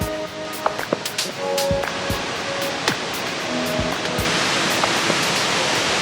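A huge waterfall at Krka National Park, Croatia roars close and loud as a dense, unbroken rush of water, with a few faint knocks and scattered voices over the first half.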